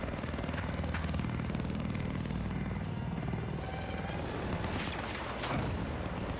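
A Battlefield 4 helicopter roars close and loud during a competitive match, its dense rotor and engine noise constant throughout, with bursts of distant gunfire and explosions mixed in.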